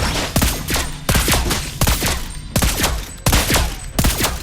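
Lesley's gun firing in Mobile Legends: Bang Bang ranked mode: loud, sharp bursts of gunfire repeat roughly every three-quarters of a second, each shot cracking then trailing off, with no talk.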